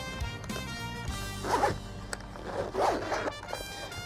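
A zipper runs around a hard carrying case with a soft felt lining, the case for an AUTOONE JWA2 portable jump starter, in two close, steady pulls with short pauses between them.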